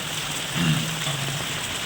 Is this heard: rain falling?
yes